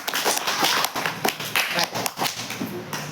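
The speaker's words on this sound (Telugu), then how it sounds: "చప్పట్లు కొట్టండి." Schoolchildren in a classroom clap their hands in a quick, uneven burst of sharp slaps, close and fairly loud, with a voice briefly heard among them.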